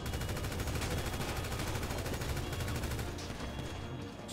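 Video game gunfire: dense, rapid automatic shots rattle continuously at moderate loudness, thinning out in the last second with no talk.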